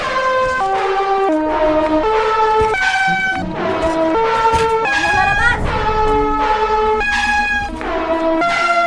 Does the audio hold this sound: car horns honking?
yes